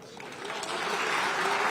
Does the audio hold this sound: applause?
yes